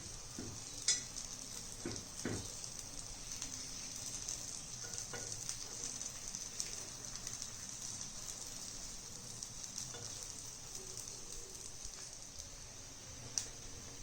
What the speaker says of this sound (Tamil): இப்படியே ஒரு பணியாரத்தையும் திருப்பி விட்டுக்கலாம்.